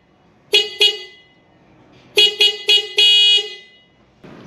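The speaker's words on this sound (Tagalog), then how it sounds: "bibigyan ko muna kayo ng demo or ng sample, last sample ng ating stock horn." Stock horn of a 2025 Toyota Wigo honks loud and close, two short toots, a pause, then three quick blasts ending in one longer held blast.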